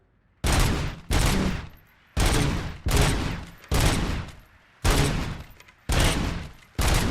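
Gunfire in the video game Robocop: Rogue City: loud bursts of rapid shots repeat in a steady rhythm, each burst lasting about half a second, with no talking.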